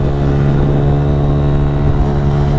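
Motorcycle engine droning loudly and steadily while riding along C5 Extension road in Las Piñas, a constant close hum with wind rumble and no talking.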